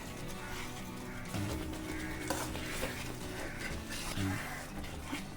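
Chana dal being stirred in a pan while cooking down for a sweet filling, with steady scraping and soft bubbling close up through the whole stretch.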